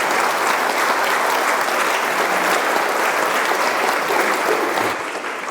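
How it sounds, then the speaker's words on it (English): A conference audience at a diabetes forum claps in a dense, sustained round of applause that tapers slightly at the close. "Can we have a round of applause for all the work Gerry's been doing?"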